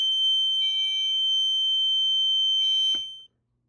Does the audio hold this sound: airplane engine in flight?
no